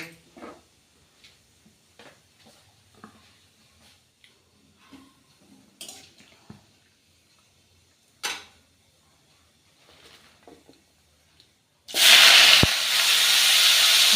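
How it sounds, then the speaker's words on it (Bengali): Mustard seeds in hot oil for a sour spinach dish, with sparse faint pops and ticks over quiet stretches, then a sudden loud, steady sizzling hiss near the end. "সর্ষেটা যখন চটপট করে ফুটবে"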